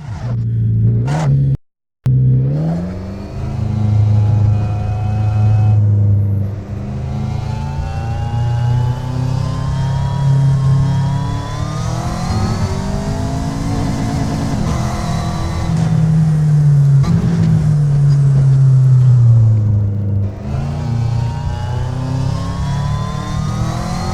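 A race car in Assetto Corsa VR, its engine loud and close and continuously running through the lap, rising and falling in pitch with upshifts and revs and a brief cut near the start, with no talk over it.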